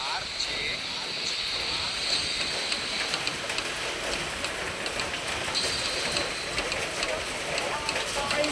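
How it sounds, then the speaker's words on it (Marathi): Steady heavy rain hisses without a break, a dense wash of noise throughout with no distinct gaps. "तिकडे बघा कसला पाऊस पडतोय"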